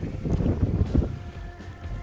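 Strong wind buffets the microphone at a late-fall campsite at Abraham Lake in a steady rumbling roar with gusty surges, loud and close, no voices.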